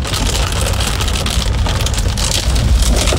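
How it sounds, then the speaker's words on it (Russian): Heavy rain drums steadily and loudly on a car, a dense wall of downpour with a low rumble underneath during a summer storm in the Urals, continuous with no voices. "Ливень стеной. Ураган."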